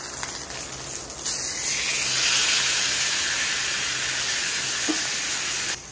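A ribeye steak sears in a ripping-hot pan, giving off a loud, steady broadband sizzle and hiss that starts after a brief quieter moment and carries on evenly to the end, with no talking.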